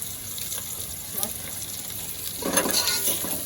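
Cumin seeds fry in a pan with a soft, steady sizzle, brightening into louder crackling bursts near the end, under a faint background of voices.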